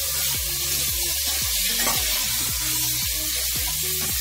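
Tomatoes cooking with salt in a pan for chicken curry, giving a steady, even sizzle that carries on unbroken from start to finish, with no speech.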